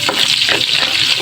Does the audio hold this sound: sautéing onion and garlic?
yes